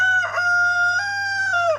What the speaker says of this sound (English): That's one of our main roosters in the hen house.